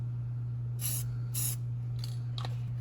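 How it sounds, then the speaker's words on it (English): Short hissing bursts of spray paint hit a Jeep Cherokee XJ suspension mount to stop rust, two longer blasts followed by brief quick spurts, close up over a steady low hum. "I'll hit it with a shot of paint so it doesn't rust any further."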